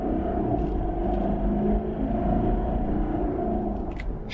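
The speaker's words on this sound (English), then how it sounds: "that was 0 to 60 uphill in the diesel" A diesel Lexus LX450d SUV accelerates from 0 to 60 uphill, its engine a steady, loud low rumble and drone that holds throughout with no voices over it.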